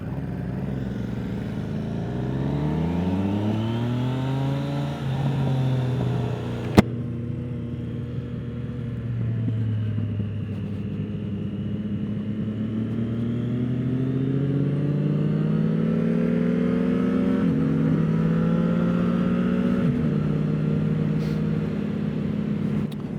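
A 2024 Triumph Street Triple motorcycle rides off and accelerates, its engine pitch climbing repeatedly through gear changes in a steady, close, loud drone with wind rumble.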